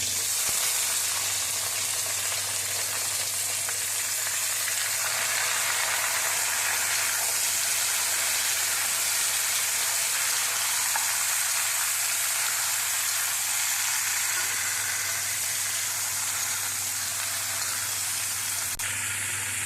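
Cut vegetables sizzle and fry steadily in hot oil seasoned with black cumin and radhuni, a loud, continuous hissing crackle with faint stirring beneath.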